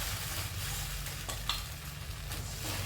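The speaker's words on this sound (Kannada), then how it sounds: "ಈಗ ಅದನ್ನು ಒಗ್ಗರಣೆಗೆ ಹಾಕ್ಬಿಡೋಣ" Sour buttermilk mixed with rice batter, water and salt goes into a hot tempering and sizzles steadily, with soft stirring scrapes and a brief clink partway through, no talking.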